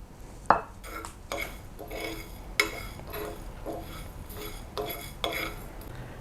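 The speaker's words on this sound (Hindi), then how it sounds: "अब हम मेथी दाना और राई भी डाल देंगे।" Fenugreek and mustard seeds added to a pan where fennel and coriander are roasting, heard as a string of sharp metallic clinks and scraping stirs against the pan, irregular and close, with no talking.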